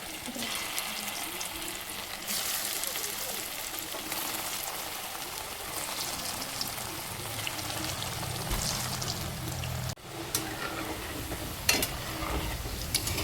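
Kothimbir vadi, coriander fritters, frying in hot oil with a steady close sizzle and bubbling throughout, a brief break midway and occasional light clinks of a utensil stirring.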